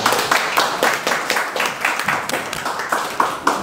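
Steady applause from an audience at a conference meeting, dense hand claps rolling on evenly for a few seconds with no one speaking.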